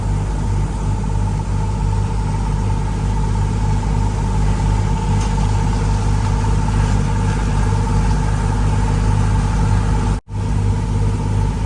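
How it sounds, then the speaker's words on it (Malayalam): Diesel engine of a passenger boat cruising the Kuttanad backwaters between Alappuzha and Kainakary, a loud, steady low rumble and drone that runs almost without a break, with no voices. "നമ്മുടെ ബോട്ട് ഇതാ ഈ ഒരു ലെഫ്റ്റ് ഭാഗത്തേക്ക് അതായത് ഇപ്പൊ ഇങ്ങോട്ടേക്കാണ് പോകുന്നത്"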